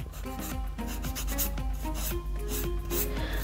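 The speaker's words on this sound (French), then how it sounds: "après je donne la forme que je veux donner à mon ongle" A Gel-X nail tip being filed into shape, heard as close, rapid rasping strokes in a repeated back-and-forth rhythm, loud and alone with no talk.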